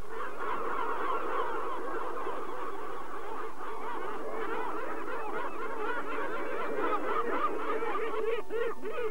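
Gulls calling at a territory boundary, a dense chorus of harsh, laughing, honking cries that stays continuous and fairly close throughout.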